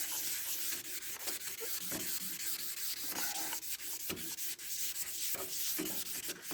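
Wet sanding of primer on a VW Beetle trailer body, heard as close, continuous scratchy rubbing strokes that swell and fade in an uneven rhythm, with no voices.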